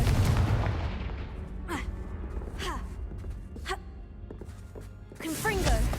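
Blasting-curse explosions from the spell Confringo in the video game Hogwarts Legacy, a heavy boom opening and closing the passage with whooshing spell effects and a steady low rumble between.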